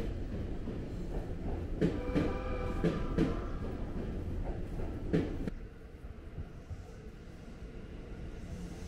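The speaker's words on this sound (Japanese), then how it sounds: "ホームの様子を撮影していると横に特急踊り子がやってまいりました。" An Odoriko limited express train pulls in beside a station platform, a loud rumbling rush with clattering wheel hits and bright squeals, then fading to quieter station ambience after a few seconds.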